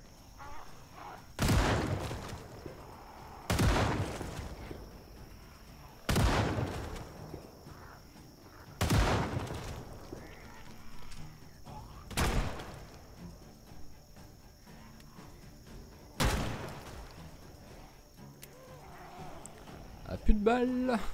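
Gunshots ring out in the zombie survival video game Project Zomboid, six sharp reports spaced a few seconds apart over a quiet ambient background, with a voice talking faintly in between.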